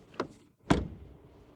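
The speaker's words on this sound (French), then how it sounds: "le son de la fermeture des portes" Door of a Mercedes GLC 43 AMG shutting: a light first tap, then one solid, heavy thunk close by with a short damped decay, no voices.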